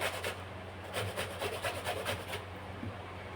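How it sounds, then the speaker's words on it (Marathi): Raw green mangoes being grated by hand, a quiet run of rhythmic rasping strokes, about a dozen even scrapes in quick succession that stop near the end. "तर अशाच पद्धतीने मी हे किसून घेते कैऱ्या।"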